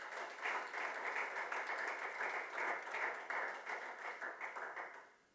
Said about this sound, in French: Alors nous applaudissons le Seigneur